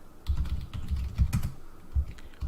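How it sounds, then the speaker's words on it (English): Someone types on a computer keyboard, a quiet, uneven patter of keystrokes with soft thumps, close by and with no talking. "Are you really typing ninja pipe?"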